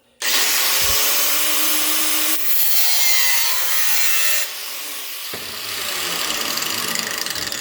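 A grinder cuts through metal while a car body mount is being built, a loud, harsh, continuous rasp that shifts in tone as the cut progresses and settles into a slightly lower grind toward the end.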